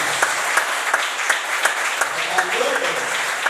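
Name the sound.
church congregation applause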